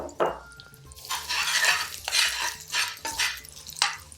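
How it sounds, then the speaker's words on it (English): Onions softening gently in a little oil in a pan while cooking chicken 65. A soft sizzle runs throughout, with a few bursts of stirring and scraping close by. No one speaks. "just put a little oil in a pan. And what we're going to do is we're just going to gently soften down these onions."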